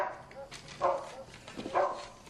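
Small dog from a TV drama scene giving two short yelping barks roughly a second apart, moderately near, with a faint voice nearby.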